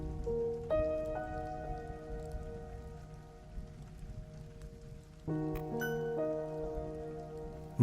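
Steady rain falls throughout, a soft continuous patter heard alone with no voices, while faint tonal sounds drift in and out in the background.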